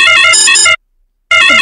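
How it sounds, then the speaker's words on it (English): A delivery app's alarm notification plays on a phone, a loud electronic ringtone of bright repeating tones that sounds for under a second, stops for about half a second, then starts again. "And that is how alarm notification the delivery boy will get."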